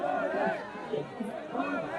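A crowd of protesters packs a sit-in, pushing and shoving, their overlapping voices forming a dense, steady murmur of chatter at close range.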